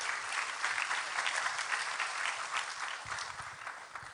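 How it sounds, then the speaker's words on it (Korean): An audience at a church gospel lecture claps to welcome a speaker to the stage, a dense continuous patter of many hands at moderate level, heard alone. "큰 박수로 무대로 모시겠습니다."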